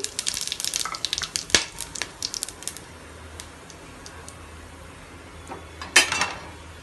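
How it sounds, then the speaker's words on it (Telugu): Cumin seeds spluttering in hot ghee and oil give quick crackling pops, busy at first and then sparser, with a few sharper snaps, close and moderately loud. "సాజీరా వేసేద్దామండి. కొంచెం చిట్పట్లాడిచ్చి"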